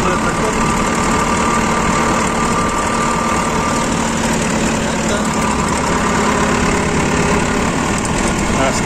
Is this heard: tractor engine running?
yes